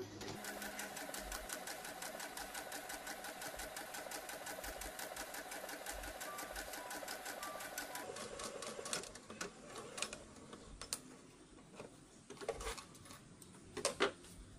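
A sewing machine stitches a cloth mask in a rapid, even mechanical chatter for about eight seconds, then stops into scattered clicks and handling noises, fairly quiet and close.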